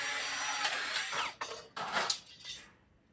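A power tool fitted with a cutting attachment slices through a roofing sheet in several close, harsh bursts that stop and restart, fading out at the end.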